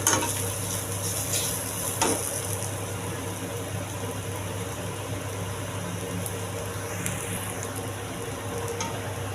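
Sun-dried vadagam seasoning balls sauté in a pan, village-style, with a steady soft sizzle and occasional stirring scrapes, loud and close with no talk.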